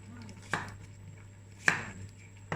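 A knife chopping zucchini into pieces on a cutting board, three crisp, separate knocks spaced about a second apart, close and clear over a quiet background.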